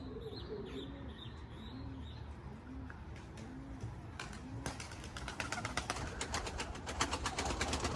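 Pigeons coo in a repeated rhythm, then a burst of rapid wing flapping and clatter builds up close and fills the rest.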